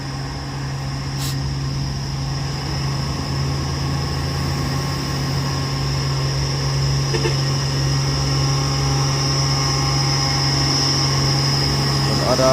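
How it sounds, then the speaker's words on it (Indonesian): Tanker truck engine on the Bukit Kodok hill climb, a steady heavy low drone with a constant hum and a high whine, close and loud, with people talking over it. "Truk tangki."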